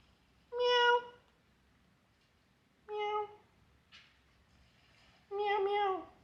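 A pet cat meows indoors in three distinct bursts of harmonic, drawn-out calls with a soft, fainter sound in between, close to the listener against a quiet background, with no talking.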